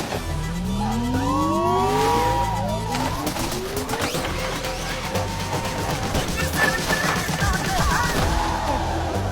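In a Hindi movie car chase, rapid bursts of gunfire crack over screeching tires, sweeping engine whines and revving cars, with voices faintly underneath.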